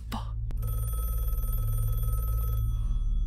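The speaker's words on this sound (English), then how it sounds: "Pick up the fucking phone already." Telephone ringing in the surreal puppet series Don't Hug Me I'm Scared, a sustained old-style bell ring lasting about two seconds after a brief knock, loud and close.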